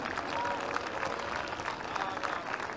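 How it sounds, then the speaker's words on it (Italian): An audience applauds a hang-glider aerobatic display at the Festival Aero 2022 air show in Trento, steady distant clapping heard at moderate level under a faint hum of voices. "e a Luca Bertossio gli applausi del pubblico di Festival Aero 2022"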